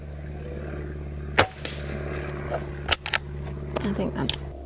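A Gamo Arrow .22 caliber PCP air rifle fires sharp, close snapping shots, a few spaced apart, over a low steady background hum.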